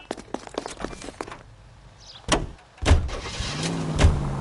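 A car in a PS4 detective game is boarded and started: clicks and door thumps, a pause, a sharp slam, then the engine starting up and revving into driving.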